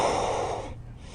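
A deep, drawn-out breath during spinal breath-work exercise, a close airy exhale through the nose that fades out after about a second, with no talk.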